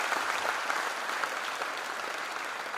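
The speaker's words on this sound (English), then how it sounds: "Give a loud applause for her." An audience at a college freshers' induction program applauds a speaker, a soft, steady wash of many hands clapping heard from a distance.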